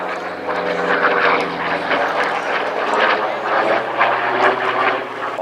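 A Second World War warplane armed with machine guns and up to 2,500 pounds of bombs flies past at an air festival, a steady broad engine roar holding loud throughout, mixed with faint crowd or announcer voices.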